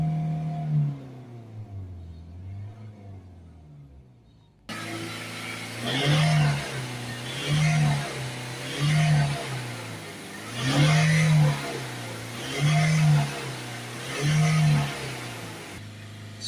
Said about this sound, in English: We can give it full acceleration.